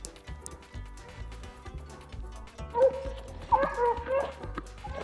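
Hare hunting hounds bark and yip in a few short bursts while running across a road outdoors, the calls rising over low rumbling background noise in the second half.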